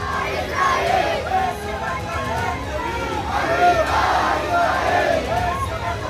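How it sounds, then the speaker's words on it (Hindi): A large crowd in a nighttime candlelight street procession chants slogans in loud, rhythmic unison, with the massed voices filling the whole stretch and rising and falling as the chant repeats. "रात के अंधेरे में मोमबत्ती की रोशनी है और उसी रोशनी में लगाए जा रहे नसरुल्लाह के लिए नारे।"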